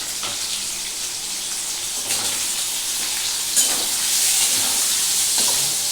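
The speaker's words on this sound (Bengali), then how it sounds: "এটা খুব আলতো করে আমি একটু ভাজবো" Paneer pieces fry gently in a pan with chilli powder, giving a steady soft sizzle that holds through the whole stretch, with a few small clinks and stirs near the middle.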